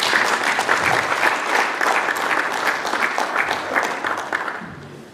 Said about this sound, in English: A round of applause for Her Excellency one more time.